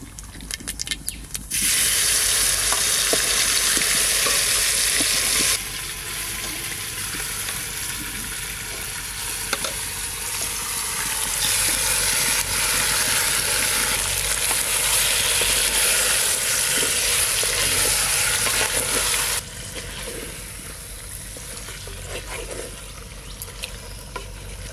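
Loud, continuous sizzling of country red chicken meat dropped into hot mustard oil in a new clay handi, with bright frying hiss swelling and easing and faint stirring clatter underneath.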